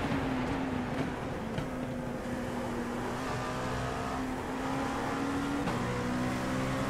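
Race cars in the iRacing LMP2 game at Monza howl close by in a steady, continuous engine drone. The pitch shifts with gear changes and other cars run alongside. No one speaks.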